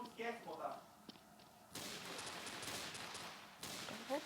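Bursts of gunfire come from the video game Special Forces Group 2: a quiet opening, then sustained rapid shooting, a brief break and another loud volley near the end.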